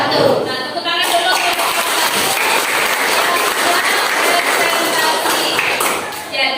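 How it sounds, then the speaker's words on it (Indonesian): Sustained applause fills a classroom, many hands clapping steadily and loudly for several seconds with a dense, even texture and scattered voices underneath. "tepuk tangan dulu."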